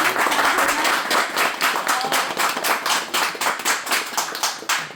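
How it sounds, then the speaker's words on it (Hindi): An audience at a certificate distribution ceremony honoring local heroes claps for the honorees, a steady run of distinct handclaps with a slightly uneven rhythm that thins toward the end, close and fairly loud. "एक बार पुरजोर तालियाँ"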